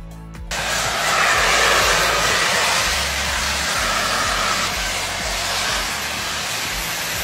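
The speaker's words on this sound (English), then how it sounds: "This jet engine helps you fly in the air easily." A loud, steady jet engine roar with a broad rushing hiss holds almost unbroken for several seconds after a brief quieter start, with no voices.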